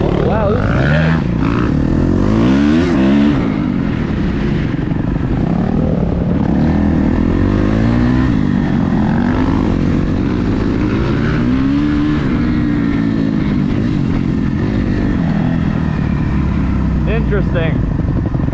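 A dirt bike engine drones loudly and continuously while riding through loose sand, its pitch rising and falling with throttle changes, with wind roar over the recording and a rider talking now and then.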